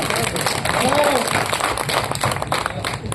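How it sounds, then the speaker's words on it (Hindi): An audience claps together in response to a poet at a live Hindi comic poetry recital, a dense, steady patter that runs the whole moment beneath a voice. "कौन कौन दिखाना चाह रहे हैं ताली बजा के मुझे बताओ"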